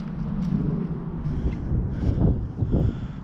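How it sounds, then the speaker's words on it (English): Strong southerly wind blows outdoors across a farmyard, a constant loud low rumble and buffeting against the microphone that swells and eases without a break. "we've got a southerly wind blowing here"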